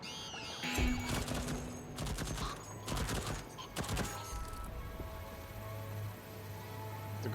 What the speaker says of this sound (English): The gunshots don't make a lot of sound considering no reaction whatsoever over there.